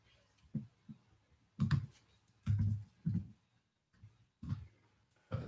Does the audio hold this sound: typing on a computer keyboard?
yes